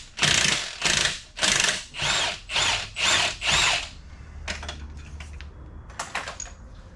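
A DeWalt power tool gun works on a Dodge Challenger driveshaft, giving six loud, rhythmic whirring bursts up close, followed by quieter clanks and scattered handling noises.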